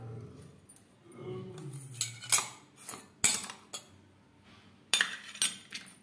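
Coffee being beaten with a little water in a cup, a series of sharp clinks and scraping taps of a spoon against the cup, irregular and close, with quiet gaps between strokes.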